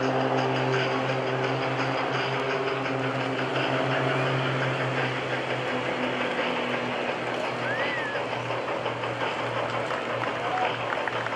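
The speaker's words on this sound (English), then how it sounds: "Airplane back to the left." A propeller airplane passes at the 2013 Atlantic City Airshow, a loud, continuous droning engine tone that holds steady for several seconds under faint crowd noise.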